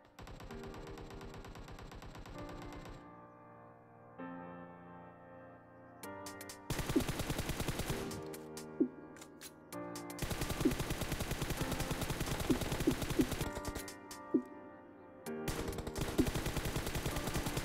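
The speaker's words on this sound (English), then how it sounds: "Here I am not controlling recoil and this is the recoil of M416." An M416 rifle firing in PUBG Mobile, sustained full-auto bursts of loud rapid shots broken by short pauses, with crisp repeated cracks.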